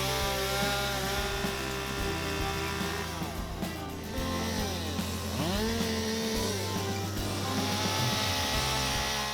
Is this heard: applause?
no